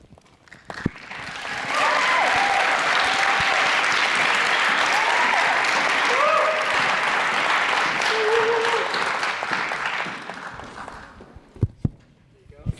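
A youth forum audience at UNESCO headquarters applauds after Ria's poem on transforming education, a loud, sustained wave of clapping lasting about ten seconds, with cheers and voices rising through it before it fades to a few scattered claps.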